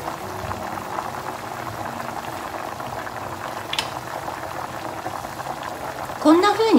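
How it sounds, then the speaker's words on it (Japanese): Tonjiru, a pork miso soup with daikon, carrot and ginger, simmers over medium heat with a steady close bubbling burble, then a short clatter at the very end. "このまま中火ぐらいで煮ていきます"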